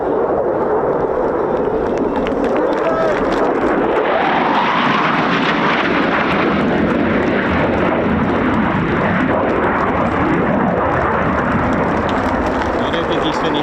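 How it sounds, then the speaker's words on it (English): An RAF Typhoon fighter jet roars overhead during an airshow display, a loud, continuous engine rumble and whoosh that swells and shifts as it passes, with crowd voices under it. "This is Flight Lieutenant Top Nation in the Royal Air Force Typhoon"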